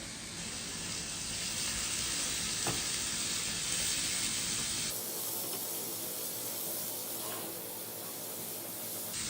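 Ground spices and ginger-garlic paste fry in a pan with a dense, loud, steady sizzle and hiss, which eases into a softer crackle partway through.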